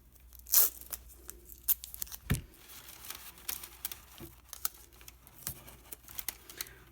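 Tape tearing while taping a parchment corner in a craft session, with crackly ripping and crinkling bursts, one louder pull early, then quieter scattered rustles close by.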